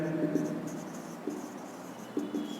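A teacher writes a chemistry formula for a base on a board, the chalk or marker giving a few short scratchy strokes in bursts under steady room noise.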